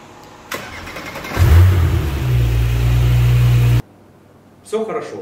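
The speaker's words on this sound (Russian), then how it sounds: "Ну и сразу же холодный запуск." A Porsche Panamera cold-starts: a short starter crank catches into a loud, steady idle that runs for a couple of seconds and then cuts off abruptly, heard up close.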